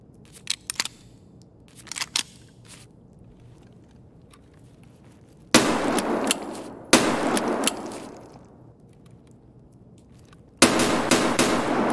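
Revolver gunshots in Escape From Tarkov: three loud, sharp reports spaced a few seconds apart, each with a long rolling tail, after a few faint clicks and taps of handling the weapon.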